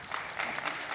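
Brief burst of audience applause at a genealogy workshop, steady clapping from a small crowd at moderate level, with no talk over it.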